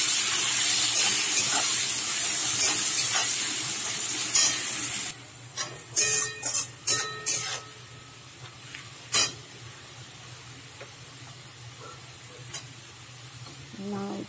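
Chopped onions hit hot oil with whole spices and a bay leaf, giving a loud hissing sizzle that then settles into a quieter fry, punctuated by a series of sharp spatula scrapes and clatters.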